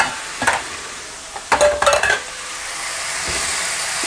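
Rice being sautéed in a pan for a one-pot veg pulav: scraping stir strokes in short bursts, with a few brief metallic clinks of a spoon against the pot over a faint steady sizzle, close and alone.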